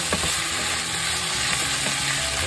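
Bitter melon and beef stir-frying in a pan, a dense close hiss of oil with a few scraping stirs underneath, steady and loud throughout with no voices.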